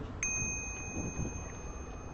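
A bicycle bell gives one bright ring near the start, its tone ringing on steadily for about two seconds over low street or wind rumble on a New York City bike ride.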